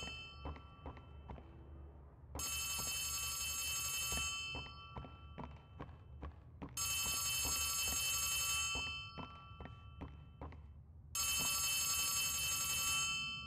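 A telephone rings in the horror video game Poppy Playtime Chapter 3, in three loud, drawn-out bursts separated by pauses filled with soft thuds and knocks; no one speaks.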